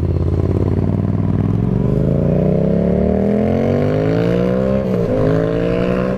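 A 1000cc motorcycle running in A2 restricted mode revs up loudly and close, its engine note climbing steadily through several seconds with a brief dip near the end, no talking.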